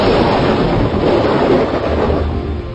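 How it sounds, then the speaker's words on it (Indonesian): Heavy rain driven by strong wind in a storm, a loud, steady, dense roar of rainfall and gusts that fills the whole stretch without a break, with no voices. "hujan lebat bercampur angin"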